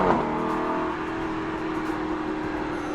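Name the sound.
V8 sports car engine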